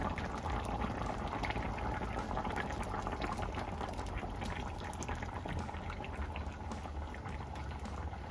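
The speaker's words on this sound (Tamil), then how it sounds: "இப்போ நான் இதுக்குள்ளே முதல் பாலை விடுறேன்" Fish curry simmers while the first coconut milk goes in, giving a continuous close bubbling and liquid gurgle at low level throughout, with no speech.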